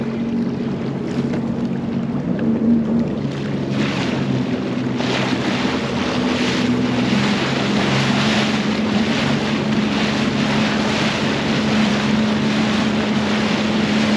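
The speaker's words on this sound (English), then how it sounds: "Or even the bow thrusters, you can see them working overtime here on the port." A ship's bow thrusters churn steadily while the vessel makes a full turn in port, giving a continuous low mechanical drone with wind and water noise layered over it and no speech.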